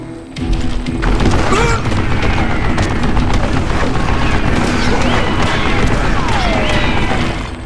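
Mounted gun firing in Call of Juarez: Gunslinger, heard as a steady, loud stream of heavy low booms and rattling blasts that runs for several seconds, with some clattering and scattered game noise mixed in.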